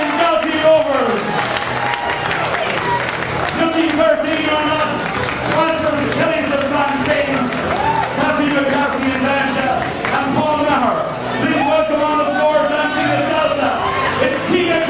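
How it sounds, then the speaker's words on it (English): A crowd at a fun dancing night applauds and cheers for the final dancers, with loud talk and voices layered over steady clapping throughout. "we want you to give them a huge round of applause"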